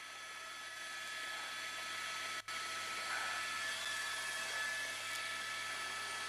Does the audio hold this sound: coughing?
no